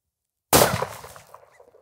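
A single loud rifle shot at a target-shooting session, a sharp close crack with a short decaying ring afterward, alone with no talk.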